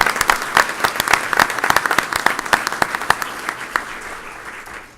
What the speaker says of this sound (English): let's give Ms. Frenchek a round of applause for what she does